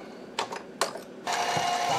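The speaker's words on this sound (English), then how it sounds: "I'm going to countersink this first before I tap it." A countersink bit cuts into a hole in a steel rifle scope base for a .375 H&H Magnum build: two brief whirring bursts, then a steady, close machine whine that holds to the end.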